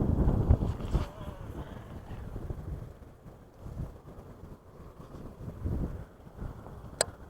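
Wind gusts buffet outdoors at a natural pool in Bladen County near Fayetteville during swimbait fishing, rumbling low and uneven throughout and ending in a brief sharp click, with no voices.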